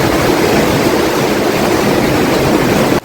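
Heavy monsoon downpour in Modasa, Gujarat: a loud, dense, unbroken roar of rain that holds steady for about three seconds, then cuts off abruptly.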